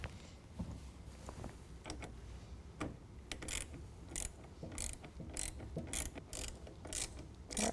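A T25 Torx screw is driven into the rail of a Retrax IX tonneau cover on a 2021 Ford F-150, cutting threads as it goes, heard as quiet irregular clicking and ratcheting ticks spread across the clip, with no talking.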